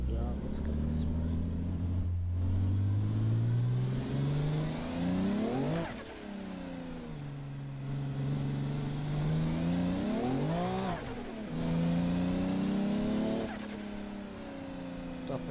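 A 1980s turbocharged car engine in the driving game Assetto Corsa revs and climbs through gears in repeated rising sweeps, dropping between shifts, while a person talks over it.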